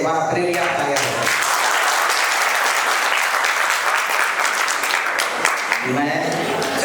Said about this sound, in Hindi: तालियां बहुत कमजोर है, एक बार अपने लिए आप तालियां दो।